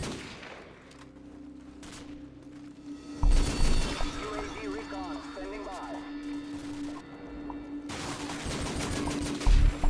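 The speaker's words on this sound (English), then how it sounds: "All this is really is just a Desert Eagle trimmed in gold." Gold-trimmed Desert Eagle pistol fire in Call of Duty 4: Modern Warfare comes in a few loud, sharp bursts over game ambience, with other gunfire and talk in the mix.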